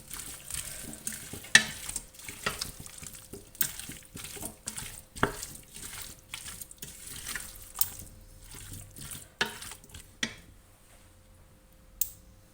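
Celery and other vegetables get stirred with spices in a pot for chorba, scraping spoon knocks and light sizzling clatter arriving at irregular intervals, close by and fairly quiet, fading toward the end.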